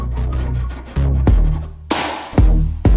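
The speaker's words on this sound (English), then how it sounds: "We can mark out a little notch and then remove it using a handsaw." Handsaw cutting a small notch out of a wooden board, with short rasping strokes broken by pauses and several sharp knocks, loud and close with no voices.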